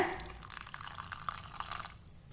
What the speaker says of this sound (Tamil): தண்ணி விடாமல் இந்த அளவுக்கு அரைச்சதுக்கப்புறமா கொஞ்சம் தண்ணி சேர்த்து அரைச்சிக்கலாங்க